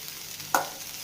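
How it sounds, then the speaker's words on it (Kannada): Banana flower roasts in a pan while being stirred. A soft, steady sizzle runs throughout, broken by a single sharp clink of utensil on pan midway. "ಅದನ್ನು ಹಾಕಿ ಚೆನ್ನಾಗಿ ರೋಸ್ಟ್ ಮಾಡೋಣ"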